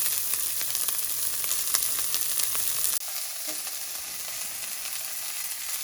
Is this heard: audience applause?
no